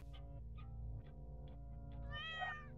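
Cat meows play from a menu pop-up button in a point-and-click adventure game, several short clear meows over a quiet tonal game music bed, ending in a longer drawn-out yowl.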